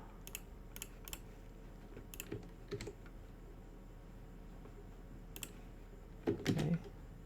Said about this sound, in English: I'm gonna type it 1 2 3 4 5 6